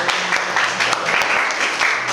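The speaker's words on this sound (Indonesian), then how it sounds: "Baik, kasih tepuk tangan dong ya." A classroom of students claps together in a dense, steady burst of applause, close by, with some voices mixed in under the clapping.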